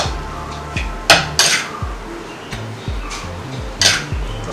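Prawn curry ingredients with turmeric are mixed in a pot before heating: a spoon knocks and scrapes against the metal in a loose rhythm, with several louder clanks standing out among steady clinks.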